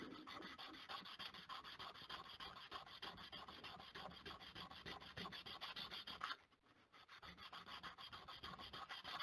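Sandpaper rubbing lacquer off a bass guitar fretboard during a restoration, a quiet, rapid back-and-forth rasping that runs steadily, pauses briefly, then resumes, with no talking.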